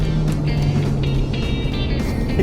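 A Toyota GR86 sports car with a tuned ECU accelerating, a loud, steady roar with rising tone, heard close and continuous.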